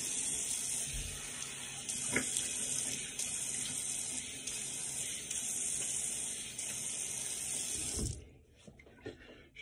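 Steady hiss of water running from a tap while a razor is rinsed under it, with a few clinks, until the flow stops and faint handling noises follow.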